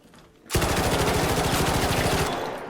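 Rapid automatic weapon fire in ARC Raiders, a sustained burst of close, loud shots in a fast, even rhythm that starts abruptly and runs for about two seconds before cutting off.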